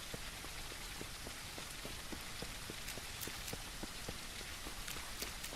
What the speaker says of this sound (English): Rain came right back.